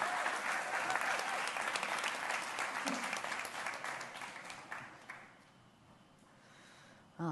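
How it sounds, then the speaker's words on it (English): Conference audience applauding as panelists walk onto the stage at a climate event, sustained clapping that fades out after about five seconds into a quieter room. "So if you give them a warm round of applause,"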